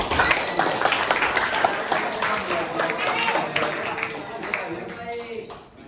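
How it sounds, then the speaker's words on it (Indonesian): A classroom of junior high students claps for a classmate during a math lesson, a dense, steady patter of many hands sustained throughout, fading slightly toward the end with some voices mixed in. "Tepuk tangan buat Nadif."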